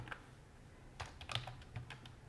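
Quick bursts of keystrokes on a computer keyboard as a terminal command is typed, irregular clicks close and fairly quiet with no talking.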